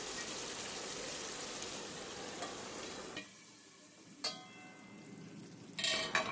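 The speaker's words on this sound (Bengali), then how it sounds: "তো এবার এটাকে নেড়ে দিয়ে আমি ঢাকা দিয়ে দিচ্ছি।" Masala okra (bhindi) with a little water sizzles in a pan under steady stirring for about three seconds, then drops to quiet after the pan is covered, with a couple of brief clatters of the lid.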